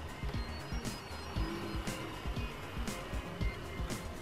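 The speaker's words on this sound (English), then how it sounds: "Now if I get close, you may be able to hear a bit of motor noise" A Bachmann class 24 model locomotive's motor running with dry bearings, heard up close as a steady, rough mechanical whirr with a faint rhythmic pulsing throughout.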